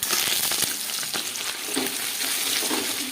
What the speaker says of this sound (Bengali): এবার কড়াইয়ে সাদা তেল দেবো অল্প করে, দিয়ে ডিমটা ভেজে নেবো।